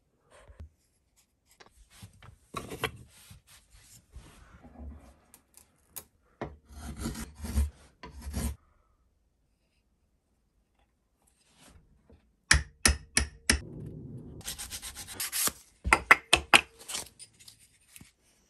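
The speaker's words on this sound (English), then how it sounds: "get a wee bit of sandpaper in there." Wood being sanded by hand with sandpaper while making holders for hand planes, with bursts of close, scratchy rubbing strokes separated by pauses.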